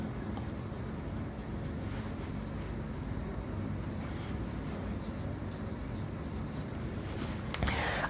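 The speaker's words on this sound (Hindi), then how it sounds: "यहां लिख देता हूं मैं" Handwriting during a maths lesson on squares and perimeter: a steady, soft scratching of pen or marker runs continuously against a low background hiss, with no speech.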